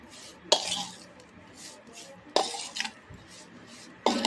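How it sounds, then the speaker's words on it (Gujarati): A spoon stirs grated bottle gourd with red chilli, turmeric and garam masala for dudhi muthiya, giving three sharp scraping clinks against the bowl amid soft, repeated mixing rustles, close up. "ત્યારબાદ લાલ મરચું, હળદર પાવડર, ગરમ મસાલો બધું નાખી અને બરાબર ચમચી વડે મિક્સ કરો."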